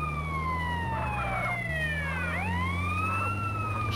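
Ambulance siren in the video game GTA San Andreas during an ambulance mission, a loud continuous wailing tone sweeping up and down over a steady engine drone, with no talk.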